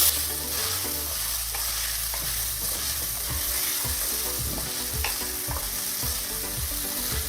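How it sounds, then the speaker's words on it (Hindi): Sabudana (sago) stirred in a frying pan for khichdi: a continuous sizzle with repeated scraping strokes of a spoon against the pan, evenly paced and close. "और अब करेंगे साबूदाने को अच्छे से मिक्स।"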